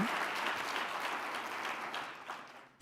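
Audience applause at a mayors' winter meeting plenary session, a steady wash of many hands clapping that gently tapers off toward the end.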